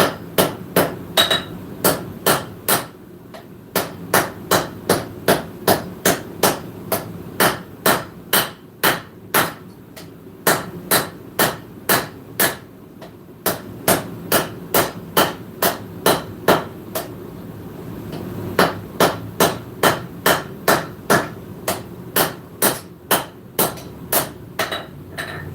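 Steel being forged by a blacksmith in a shop, hammer blows landing on hot metal at a steady quick rhythm in bursts with short pauses, loud and close, ringing sharp strikes with no talking.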